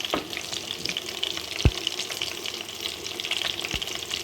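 Food fries in a pan in a home kitchen with a steady, soft sizzle. A couple of sharp clicks from utensils sound near the middle and end, with no talking.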